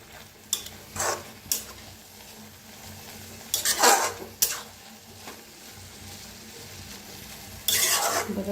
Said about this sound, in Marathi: आता छान मिक्स करूया।